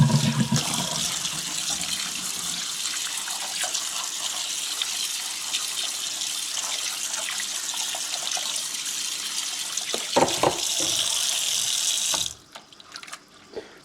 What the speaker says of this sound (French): Je vais enlever déjà l'eau qui est chaude. Là. Hop. Et on remet de l'eau froide.